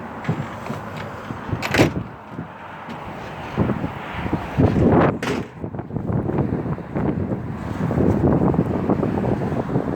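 Gusty outdoor wind buffets the microphone near Cape and Hill, rising and falling in loud rumbling bursts with a few sharp knocks, no voices.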